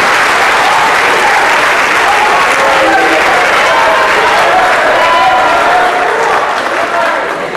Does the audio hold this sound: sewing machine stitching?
no